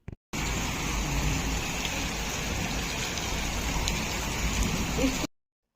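Heavy monsoon-style rain pouring steadily outside a home in the early morning, a dense continuous hiss that holds at an even level for several seconds and then cuts off abruptly.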